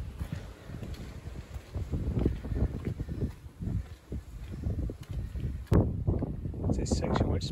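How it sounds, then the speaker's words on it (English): Low, gusty wind rumbles and buffets steadily against the microphone on a hilltop near Albany, Western Australia, rising and falling in strength throughout. "I can hear the wind just roaring today"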